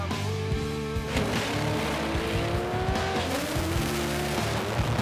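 A 240Z drag car with a history of gearbox trouble launches hard at a drag strip, its engine roaring loudly and continuously with rising harmonic pitch sweeps, while tire squeal and skidding mix in throughout.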